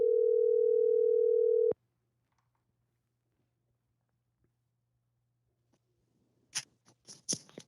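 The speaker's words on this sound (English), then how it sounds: "Little dialing music, Paul." A steady telephone dial tone hums for under two seconds and cuts off abruptly, followed by near silence and then a few faint scattered clicks.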